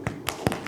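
A handful of sharp, scattered hand claps, about five quick uneven smacks within a second, ring out at a conference gathering.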